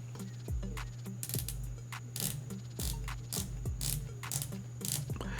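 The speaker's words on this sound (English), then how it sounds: "Let's actually listen to the bezel action" The rotating bezel of an Escudo Ocean Seacrest two-tone bronze and stainless steel dive watch is turned click by click, a rapid series of crisp ratcheting ticks in short bursts, close and alone.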